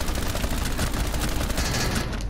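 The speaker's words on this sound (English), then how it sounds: "I heard shooting though." Rapid gunfire fills the scene in Rainbow Six Siege, a loud, dense fusillade of overlapping shots that continues without pause.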